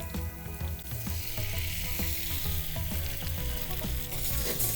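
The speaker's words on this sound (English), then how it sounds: "I'm gonna brown that tomato paste, being very careful, very careful not to burn the garlic." Garlic and tomato paste sizzle steadily in a hot pan, a continuous close frying crackle with small pops and stirring sounds, no talking.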